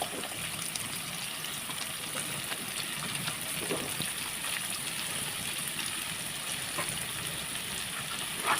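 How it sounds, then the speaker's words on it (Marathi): Curry leaves, onion and chili sizzling in hot oil in a pan, a steady close hissing crackle that continues throughout without talk. "हे सर्व घालून तेलामध्ये परतून घ्यायचे"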